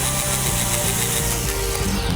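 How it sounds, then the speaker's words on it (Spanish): A large electric drill bores steadily into a car's metal body to mount fender mirrors, a loud continuous whirring grind that runs close up for about two seconds with no talking. "ahora que ya marcamos, metemos el taladro grande. Ya está, perforo."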